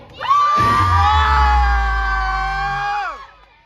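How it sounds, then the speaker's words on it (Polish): A crowd at a battle event shouts loudly to vote, a dense roar of many voices rising quickly, holding for about two and a half seconds, then cutting away. "żeby krzyczały osoby, które głosują"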